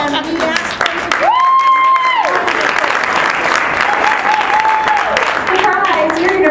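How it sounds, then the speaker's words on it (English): A conference audience gives sustained, dense applause for surprise presenters at a Chrome session, loud and close throughout, with a voice and whooping cheers rising over the clapping. "give them a round of applause"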